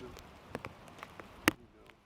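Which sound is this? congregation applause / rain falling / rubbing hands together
rain falling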